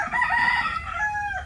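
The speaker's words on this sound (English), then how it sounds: "We're sat out with the chickens right now." A rooster crows loudly and close by among clucking chickens in an outdoor yard in Siargao, one drawn-out crow that rises and then falls away.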